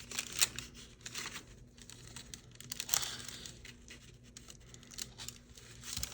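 Paper junk-mail envelope handled at close range while a strip is glued inside, soft crinkling, rustling and light tapping that run steadily with small bursts, no voices.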